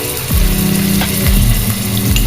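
Garlic paste sizzles and spatters in hot oil for hilsa pulao, a steady, close, busy frying noise with a few scraping stirs and no voices.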